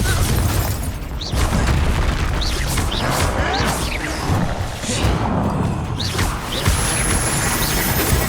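Confringo fire-blast spell explosions in the video game Hogwarts Legacy: loud, dense booming blasts and crashing impacts rolling continuously in the middle of a battle, with repeated swooshing bursts layered on top.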